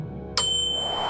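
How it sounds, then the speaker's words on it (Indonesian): A single bright ding from small bells hanging at the corner of a gazebo roof, swaying in the wind, rings out close and clear and then lingers as a sustained shimmering tone. "Angin menggoyangkan lonceng-lonceng kecil di sudut atap gazebo."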